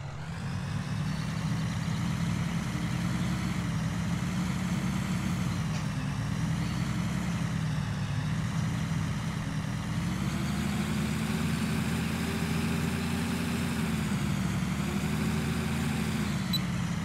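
Steady tractor engine pulling a plow across a field in Farming Simulator (FS2013/FS15), a continuous low drone with a slight rise and fall in load, heard alone and up close throughout.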